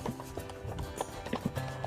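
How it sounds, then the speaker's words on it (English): An Icelandic horse's hooves beat out the quick, even four-beat rhythm of the tolt over rough ground in Iceland, steady close clip-clops with some light background noise. "The tolt helps the Icelandic horse cover the rough ground found in Iceland very quickly and smoothly."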